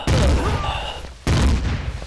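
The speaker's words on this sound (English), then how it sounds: "And I'm getting shot at." Two heavy gunshot blasts in the survival game Empyrion Galactic Survival on a hostile hot planet, each a loud, close boom with a booming decaying tail, about a second apart.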